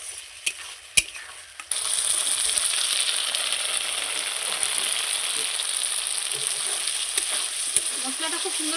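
Spice masala with salt and turmeric being sautéed in a pan for a paneer curry: a few sharp clinks, then a loud, steady sizzle with scattered spoon scrapes, close up and without speech.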